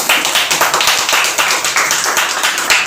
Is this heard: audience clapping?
yes